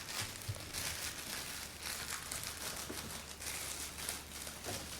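Scissors cut a thin plastic bag into strips for weaving, giving quiet, irregular crinkling and rustling with faint snips, close to the microphone and with no other sound.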